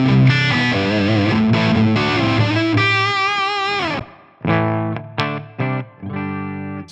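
Distorted electric guitar played through amp models on an IK Multimedia TONEX, with sustained chords and a bending lead line followed by short, choppy stabs with gaps between them.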